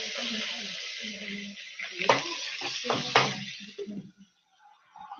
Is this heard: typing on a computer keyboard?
no